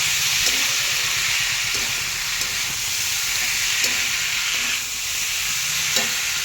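Potatoes and carrots frying in a wok with ground cumin, a loud continuous sizzle with a few soft stirring knocks and scrapes spread through it, and no talking.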